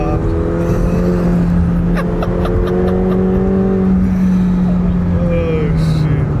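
A McLaren sports car engine revs high and pulls hard, its pitch climbing and dropping as it accelerates into a corner, loud and close, with brief voices over it.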